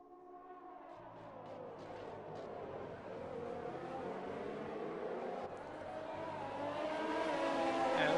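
Video-game F1 cars race around the British circuit, a thin engine whine rising under a steady roar of track noise, growing louder toward the end.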